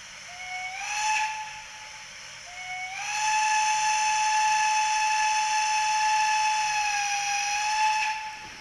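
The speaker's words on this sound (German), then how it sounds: "mit dem Pfiff der Lokomotive." ESU model of a BR 94 steam locomotive sounding its steam whistle: two long, loud, steady whistle blasts with breathy hiss, a short first toot followed by a sustained second blast of about five seconds, with no talk.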